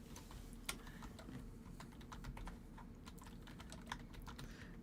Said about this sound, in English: so I gotta start typing here.